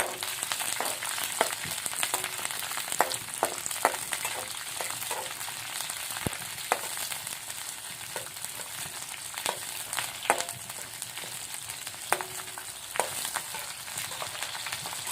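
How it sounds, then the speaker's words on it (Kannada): Chopped green chillies frying in hot oil: a steady, soft sizzle with scattered crackles and occasional scraping stirs, with no talking. "ಒಂದು ಸ್ವಲ್ಪ ಎಣ್ಣೆಗ ಇದು ಮಾಡ್ಕೊತೀನಿ ರೀ ಫ್ರೈ ಮಾಡ್ಕೊತೀನಿ ರೀ"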